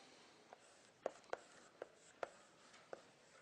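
Chalk or marker tapping and scratching on a board, a series of sharp strokes in an irregular rhythm, close and fairly quiet, with no talking.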